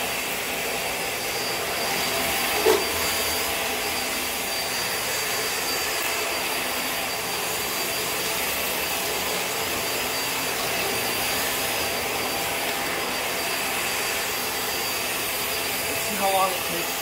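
A Hoover React Powered Reach vacuum cleaner runs with a constant high whining rush on a floor, steady throughout with a couple of brief bumps.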